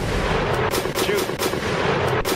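Rapid bursts of heavy gunfire ring out in a Stormworks naval battle between U-boats, escorts and planes, loud and dense shots overlapping in quick succession with no talk.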